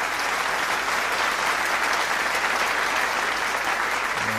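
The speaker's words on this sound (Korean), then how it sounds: "알프레드 모이시 전 대통령에게 다시 한번 감사의 박수를 보내주시면" A large convention crowd gives sustained, even applause for former president Alfredo Moisés, a dense and continuous roar of clapping with no break.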